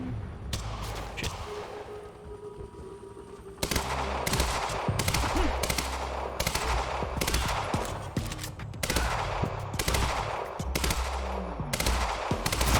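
Heavy automatic gunfire from a firefight in Quantum Break, with rapid bursts of shots repeating in loud clusters over roughly thirteen seconds, close and dense, with no talk.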